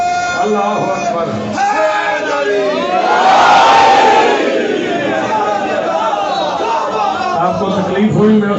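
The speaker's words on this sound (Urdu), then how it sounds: "سب کھڑے ہو کے میرے نعرے کا جواب دے. نعرے اللہ اکبر." A large crowd at a live majlis in Islampura, Lahore, chants Allahu Akbar in unison in response to a slogan, a loud, sustained swell of many voices that rises to a peak and then continues as a roaring chorus.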